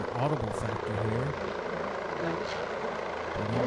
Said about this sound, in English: Here's this helicopter taking off and just definitely becoming a little bit of an audible factor here.